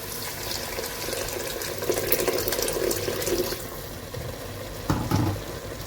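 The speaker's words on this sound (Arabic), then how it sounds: "غادي ندير واحد كاس ديال الماء" A glass of water is poured into a cooking pan of chicken filling for briouats, a steady splashing, bubbling pour close by, ending with a clink and a brief sizzle-like splash.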